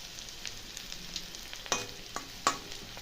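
Potatoes and pointed gourd frying in a pan, a soft steady sizzle broken by a few sharp scrapes and clicks of stirring, close and without talk.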